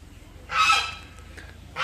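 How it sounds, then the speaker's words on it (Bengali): A goose gives a loud, harsh honk up close, and a second honk begins just as the sound cuts off, over quiet background. "ও সেই সুন্দর রাজহাঁসগুলা।"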